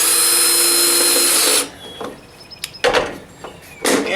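A power drill driving a screw into wood for a workshop project, a loud steady whirring motor for about a second and a half that stops abruptly, followed by a few faint clunks and knocks of handling.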